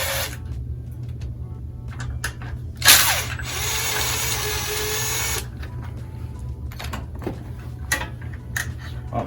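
A power drill with a Phillips bit backs screws out of a Honda CRF110 motorcycle: one whirring burst of about two and a half seconds, close and fairly loud, framed by scattered clicks and handling noises over a low hum.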